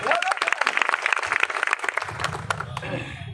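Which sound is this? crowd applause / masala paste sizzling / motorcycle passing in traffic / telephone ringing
crowd applause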